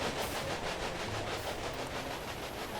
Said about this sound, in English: Here comes another train from Carson City.